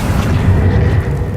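The Bombarda blasting spell from Hogwarts Legacy lets out a loud, close, low rumbling boom that holds steady for about a second.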